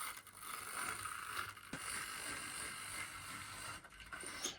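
A Bagnall W.A.C. model locomotive runs with wheels out of quarter, giving a faint, steady mechanical clatter and ratcheting rattle with a few sharper knocks, heard close and alone.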